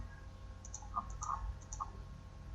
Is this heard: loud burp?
no